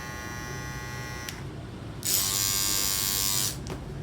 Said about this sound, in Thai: เป็นตัวกันขอบกัน อันนี้ก็เป็นกันขอบลองฟังเสียงด้วยนะฮะ